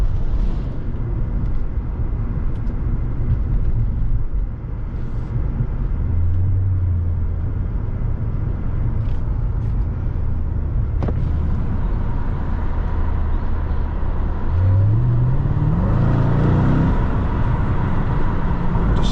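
Mercedes-AMG E55 Kompressor supercharged sedan accelerating hard, a deep steady engine rumble heard from inside the cabin that swells and rises in pitch near the end, loud and continuous with no talking.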